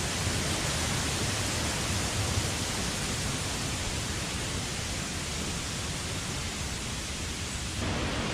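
Roaring jungle waterfall at Bambarakanda, a dense, steady wash of broadband noise from close by, unbroken for the whole stretch and cutting off abruptly near the end.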